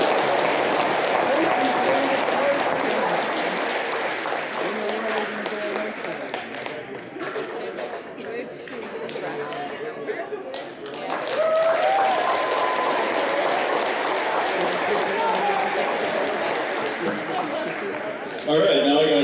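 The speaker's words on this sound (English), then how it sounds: "so let's give Peyton a round of applause" Audience applause at a First Nations science fair presentation, clapping and cheering that dips in the middle and then swells again, with voices mixed in among the crowd.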